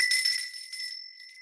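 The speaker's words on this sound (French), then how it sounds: "la cloche sonne" A school bell rings with a bright, sustained metallic tone that fades over about a second and a half, heard alone and fairly close.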